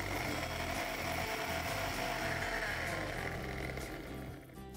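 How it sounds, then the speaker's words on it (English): An electric mixer grinder whirs loud and steady, grinding achari masala spices finer, the motor roar and rattling jar continuing throughout and easing slightly at the end. "So, let's grind it once more."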